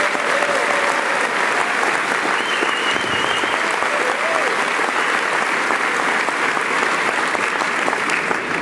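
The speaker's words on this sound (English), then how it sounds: "give a round of applause for Steven and Cindy" A studio audience applauds two Jeopardy-style game show contestants with sustained, loud clapping that stays thick and even for nearly nine seconds, with crowd murmur mixed in.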